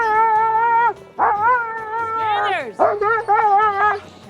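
Several dogs at an Alaskan sled-dog kennel howl in long, rising and falling tones, broken by sharp yips and whimpers, loud and close with no talking over them.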